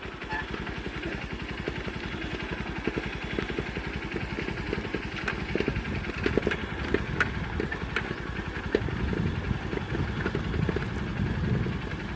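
A motorcycle's engine idles steadily while the bike rolls in neutral, a continuous low rumble that stays fairly close and even throughout, with no speech over it.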